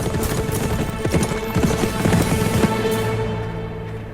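A horse's hooves clip-clop in a quick, uneven patter that comes close and then fades, with a steady hum and a swell of background music beneath.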